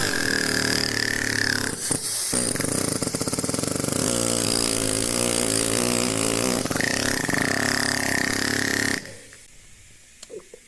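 A pneumatic hammer chips at a block of alabaster during stone carving, making a loud, dense and continuous rattling buzz with a few brief pauses. It cuts off abruptly near the end and leaves quieter room noise.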